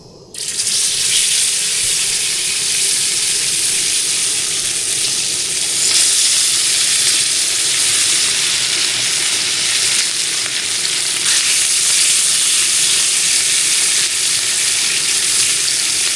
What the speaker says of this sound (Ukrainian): пробуємо смажити природнім способом, без нічого, тільки сіль, сіженька риба і олія